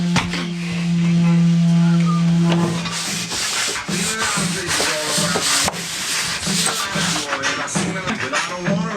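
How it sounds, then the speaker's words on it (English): Scrubbing a boat's interior ceiling and walls with cleaner, steady loud rhythmic rubbing strokes close up, preceded by a low humming tone for the first few seconds, with no speech. "right now I'm cleaning the ceiling and the walls"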